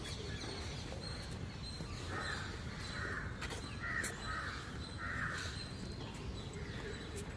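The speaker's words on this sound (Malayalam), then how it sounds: "ഇവിടെ നിൽക്കുമ്പോൾ കിളികളുടെ എല്ലാം ഇങ്ങനെ സൗണ്ട് കേൾക്കാൻ എന്ത് രസമാണ്." Crows caw repeatedly among other calling birds in Cubbon Park, Bangalore, during a morning walk, a steady outdoor wash of bird calls with a few louder caws standing out at moderate distance.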